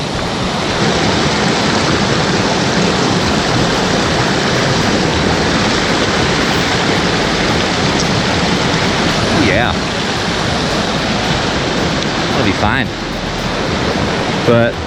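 Cold snowmelt water rushes steadily down a mountain creek along White's Creek trail, a dense, continuous close-up roar of flowing water with no pauses throughout.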